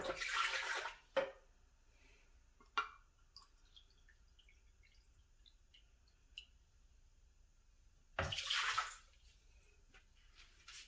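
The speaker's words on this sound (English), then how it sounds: "So first I'm just going to add a whole cup of water to each one of them." A cup of water is poured into each of two Vitamix blenders, the 750 and the A3500, giving two short, close splashing pours about seven seconds apart, with faint clicks and near-silence between them.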